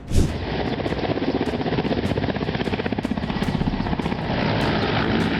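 A loud helicopter roars steadily nearby while trying to land before it crashes, its rotor blades chopping in a fast, even rhythm throughout.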